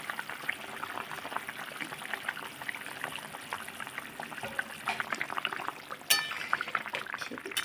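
Rohu fish curry with potatoes bubbling in a pot as pieces of fish are dropped in one by one, a steady soft simmer with faint clinks of utensils and a brief sharper clatter near the end.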